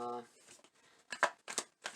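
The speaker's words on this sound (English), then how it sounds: "see if we can shuffle out the last of it before I even get into this" Tarot cards being shuffled by hand, a few quick papery riffling bursts that follow a brief moment of talk.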